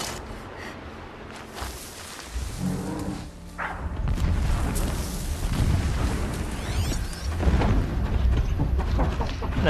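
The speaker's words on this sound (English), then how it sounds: "explosions in the distance. Pay that no mind." Explosions echo in the distance in Horizon Zero Dawn, a series of deep booms and rolling rumbles layered over dense game ambience, growing heavier partway through and continuing to the end.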